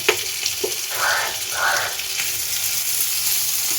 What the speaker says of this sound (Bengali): আদাটা আমি একটু ভেজে নেব, কাঁচা গন্ধটা চলে যাওয়া পর্যন্ত।